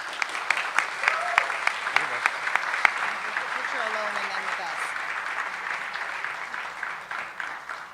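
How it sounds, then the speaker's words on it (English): Audience applause at a Brooklyn Pride Week celebration and flag raising ceremony, steady dense clapping that holds for the whole stretch, with a faint voice or two underneath. "Please give a round of applause to Charles Blow."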